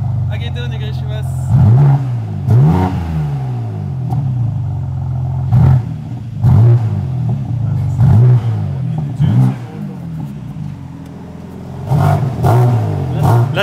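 BMW car engine revving with its exhaust valves closed, repeated deep throttle blips rising and falling every couple of seconds inside a garage, loud and close, with people talking over it.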